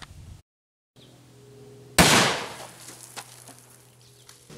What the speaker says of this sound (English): So I think the easiest way would just be to shoot it again with another one of those rounds